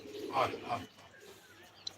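A pigeon kept for tournament flying coos twice in quick succession, close and fairly clear, followed by quieter background noise and a faint chirp near the end.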